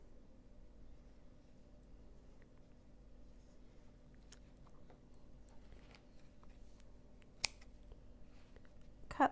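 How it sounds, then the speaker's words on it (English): Scissors snip through crochet yarn on a daisy granny square, giving a couple of sharp, faint clicks near the end over a quiet background hum. "cut this off"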